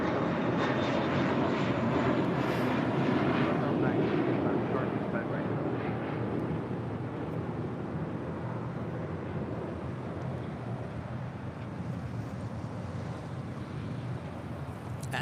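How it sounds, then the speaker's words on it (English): A JetBlue Airways Airbus A321 on departure from LAX, a loud, steady broadband engine roar that swells early and then eases slightly, with wind buffeting throughout and no talk. "Next departure, we're heading to JFK, JetBlue Airways Flight 324 in this A321"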